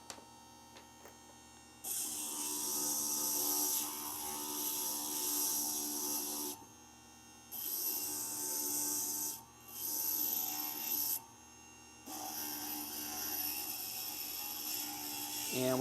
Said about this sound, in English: we've got a few more pieces to grind here